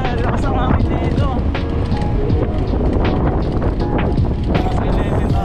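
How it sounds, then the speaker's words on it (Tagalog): Strong wind buffets the microphone outdoors on a city street, a loud, continuous roaring rumble that fills the whole stretch with gusty surges and faint traffic beneath. "Grabe, lakas ng hangin dito."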